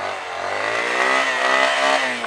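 A low-powered dirt bike engine revs up hard and steadily in a rising whine, loud and close, alone for about two seconds as it gets a jump of power for a wheelie.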